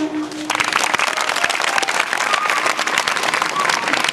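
An audience breaks into applause after a spoken address, a dense burst of many hands clapping that starts abruptly and holds strong and steady.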